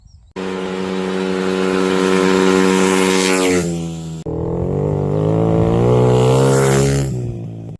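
Apollo RZ dirt bike engine revs loud and close in two sustained bursts, the pitch climbing and holding before dropping off, with no talking.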